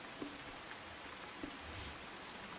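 Steady wash of heavy monsoon rain falling in hilly Banaskantha, Gujarat, a dense hiss with a few faint drops ticking through; no voices, fairly quiet throughout.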